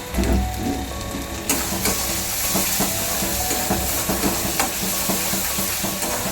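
Spices for palak paneer, with salt and Kashmiri chilli powder, are stirred and sautéed in a pan, giving a steady hiss and sizzle with repeated clicks and scrapes from the spoon.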